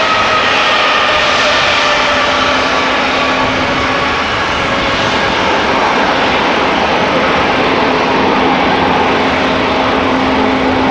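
An Air Serbia jet airliner takes off at Amsterdam Schiphol, its engines giving a loud, continuous roar that holds steady throughout, with no voices.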